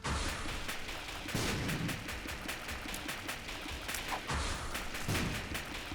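Tears fired rapidly in The Binding of Isaac: Afterbirth+, a fairly quiet, steady stream of soft popping shots over a dense game soundscape, with occasional heavier thuds.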